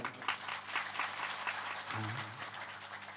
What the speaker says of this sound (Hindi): सब गोटे अपना लेल जोरदार ताली हम चाहब